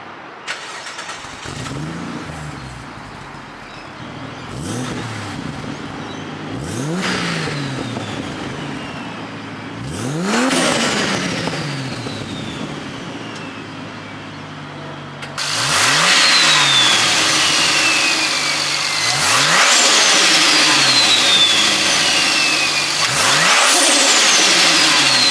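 An 800HP Ford XR6 turbo with external wastegate starts up, then idles roughly and is revved repeatedly, each blip rising and falling with turbo whistle, growing louder and harsher after the first quarter, close and continuous.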